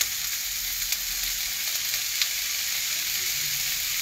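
Steady, loud sizzling of pepper frying in a pan alongside onion and aubergine for a vegetable pisto, a continuous close hiss with small crackles and no one speaking.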